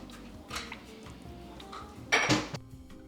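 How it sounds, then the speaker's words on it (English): Spoon scraping and clinking against a dish while stirring a ham, potato and cheese mixture, a few sharp metallic knocks among quieter rustles, the loudest clatter near the end. "Just stir all this together and then we are ready to eat."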